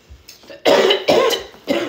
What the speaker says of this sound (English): Why the fuck is you coughing?